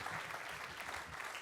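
A live storytelling audience gives a short, steady round of applause for a speaker. The clapping is soft in level and dense throughout, with no voices over it.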